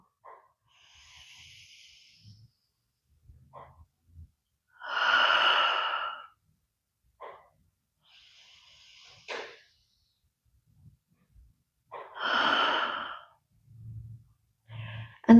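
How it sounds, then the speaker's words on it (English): A person takes deep breaths during seated yoga, three slow nasal inhales each followed by a louder, breathy sigh out, close and clear in a quiet room with soft gaps between breaths. "taking 3 deep breaths. Big inhale through the nose and then sigh it out."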